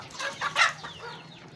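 Native free-range chickens cluck nearby in a short run of soft, quick calls over a low background hum.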